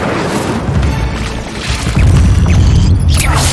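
Incendio fire spell cast in Hogwarts Legacy, a loud whooshing, roaring burst of flame with deep booming rumble that swells near the end, dense and close.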